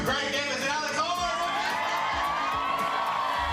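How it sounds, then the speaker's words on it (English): A studio audience cheers and whoops in a dense, continuous roar for a television show introduction, loud and sustained throughout with excited shouts rising above the crowd. "give a warm round of applause to Greg Davis and Alex Horn"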